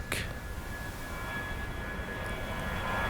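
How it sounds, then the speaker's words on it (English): A plane flies over an island in an animated film, a steady droning aircraft engine holding evenly throughout, with a brief burst at the start and a faint high whine over the rumble. "Another plane flew above the island"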